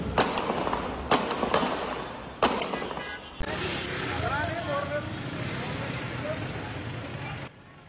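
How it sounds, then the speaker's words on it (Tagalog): Several sharp gunshots ring out at irregular intervals over steady street noise and traffic in Bonifacio Global City, Taguig, during a police shootout, followed by a long stretch of loud, rushing background sound. "Umalingaw-ngaw ang mga putok ng barilin sa BGC,"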